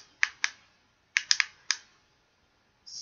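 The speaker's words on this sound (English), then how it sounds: "I'm assuming you click it 3 times." Button on a BYB 2-in-1 camping lantern flashlight being clicked: six crisp, close plastic clicks in small irregular groups, then a faint hiss at the end, with no voices.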